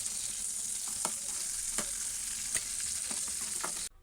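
Shrimp fry lightly in a pan at home, a steady close sizzle broken by a few sharp stirring taps, then it cuts off abruptly at the end.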